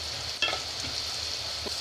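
Potatoes frying in a pan on a stove give a steady, soft sizzle with a couple of faint stirring scrapes, heard alone at close range.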